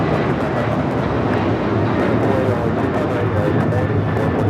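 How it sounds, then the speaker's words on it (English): A United Airlines Boeing 737-900ER taking off produces a loud, continuous engine roar that holds steady throughout, with speech likely mixed in. "This is United Airlines 2113 taking off to Chicago on the 737-900ER"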